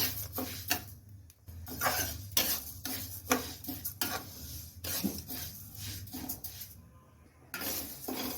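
Dry mung dal stirred in a hot wok with no oil: steady, close scraping and rasping strokes of a utensil on metal in an irregular rhythm, with light rattles of the lentils and no talking.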